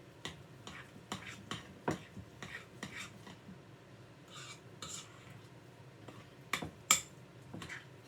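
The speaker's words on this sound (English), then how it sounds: "So we can stir this." Keto biscuit dough being stirred in a bowl, with an irregular run of faint spoon clicks and scrapes against the side, a few sharper taps near the end, and no talking.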